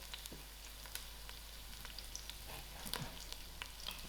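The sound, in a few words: cinnamon stick, bay leaf, curry leaf and thyme frying for lamb curry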